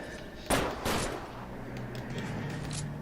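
Gunfire in a video game: two quick, sharp shots about half a second apart, moderately loud, followed by a low steady hum of game ambience.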